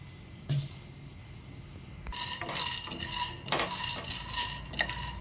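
Two handfuls of peanuts go into a pan to fry. A single knock is followed by a stretch of light rattling and clinking as the nuts shift against the metal, close by and fairly soft.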